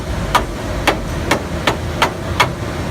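A light hammer tapping a fence part into place: six sharp, evenly spaced taps, close and clear, over faint background noise.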